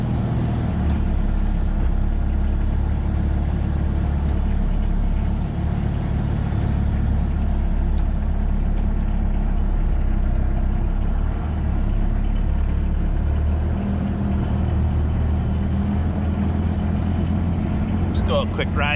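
Sherp amphibious ATV engine running loud and steady on frozen Lake Winnebago in March, a low droning rumble close by with little change through the stretch, as the vehicle is put in reverse.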